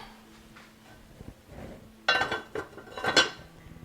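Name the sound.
lid placed on cooking pot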